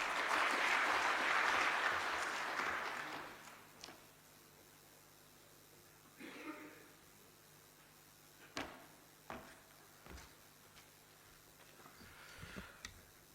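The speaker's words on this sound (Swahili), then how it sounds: "Makofi mengi kwa Profesa." At a Tanzanian state ceremony where public corporations present dividends to President Samia Suluhu Hassan, an audience applauds the professor: a fairly loud burst of clapping that fades within a few seconds, followed by quiet room tone and scattered faint knocks.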